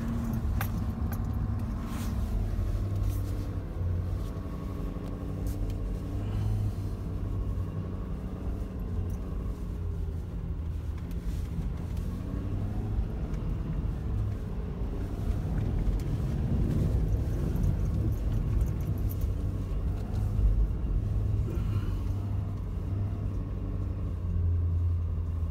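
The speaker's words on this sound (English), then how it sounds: "that's why we like to run a mini truck around the farmyard" A mini truck driving around a farmyard, its low engine rumble and road noise steady and close, with loose rattling and jangling over the top and a slight swell midway, no voices.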